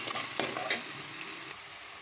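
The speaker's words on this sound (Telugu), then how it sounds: "కొద్దిగా ఉల్లిపాయలు వేగుతాయి అనేసి." Onions frying and sizzling in hot oil with salt and green chilies for a mutton curry, a steady close hiss with a few soft stirring scrapes and no talk.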